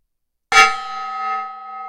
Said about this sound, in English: Gong was hit.